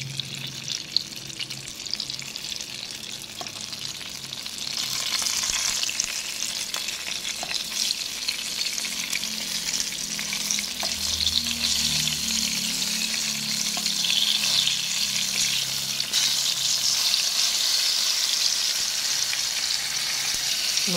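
Food, likely french fries, fries in a pan with a steady, close sizzle, growing louder partway through as more oil bubbles and hisses, with no voices.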